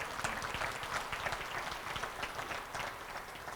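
Audience applause fills a hall during a city's 2014 State of the City address, steady dense clapping at moderate volume with no voices over it.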